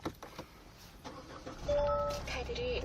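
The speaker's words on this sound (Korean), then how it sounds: "바로 시동 한번 걸어보도록 할게요" A diesel Kia Carnival starter cranks and the engine catches partway through, then settles into a steady, fairly loud idle with a brief whine; faint speech-like sounds and clicks come just before.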